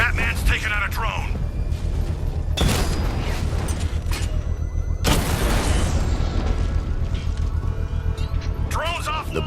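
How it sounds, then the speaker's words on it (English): A controlled bomb explosion in Batman Arkham Knight, set off with a power winch, gives two heavy booming bursts with rumbling low end, one midway and one later, over constant game noise, with voices speaking at the start and end. "I can use the power winch to trigger a controlled explosion. Bomb destroyed."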